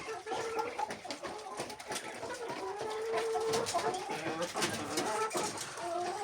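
Laying hens in a backyard chicken coop cluck and murmur continuously at close range, several birds overlapping in a busy, steady chatter with no talk over it.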